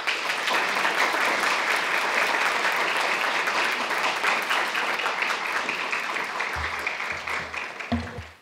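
A lecture audience applauds to welcome the speaker, with steady, dense clapping that holds loud and even for several seconds before thinning and fading out toward the end.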